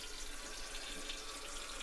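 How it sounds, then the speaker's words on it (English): Hot water runs steadily from a Kohler Coralais kitchen faucet into a sink, a constant close hiss with no other sounds. "Turn the hot water fully on"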